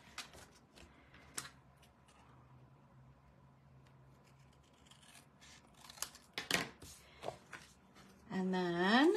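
Scissors trim excess acetate card in a few sharp snips and rubs, close and fairly quiet, with a louder burst of handling near the end.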